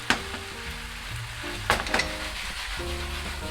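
Chicken breast and vegetable stir-fry sizzles steadily in a pan while a utensil stirs it, with a few sharper scrapes and clacks cutting through the continuous close frying hiss.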